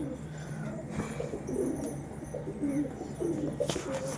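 Several pigeons coo softly in low, overlapping murmurs as they peck at grit, a steady flock sound close by with no talking.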